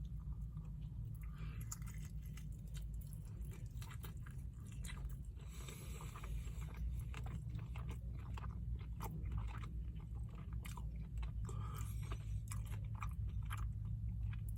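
Steady, close chewing of rotisserie chicken, with moist crunching, biting and squishing sounds repeating continuously at a low level, no talking.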